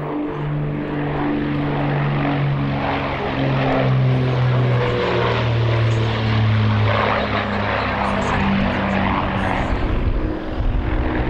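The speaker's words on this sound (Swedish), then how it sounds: "Den fyrmotoriga De Havilland Heron är en vidareutveckling av den tvåmotoriga De Havilland Dove" A four-engine de Havilland Heron propeller aircraft at an airshow gives a steady, loud, droning engine roar with shifting propeller tones throughout, and faint crowd or commentary sound beneath it.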